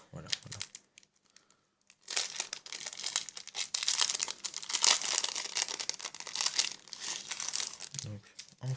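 Packaging around a Vampire Diaries necklace and mask parcel is crinkled and torn open by hand. Soft handling comes first, then a long, loud burst of crisp plastic crackling and rustling up close.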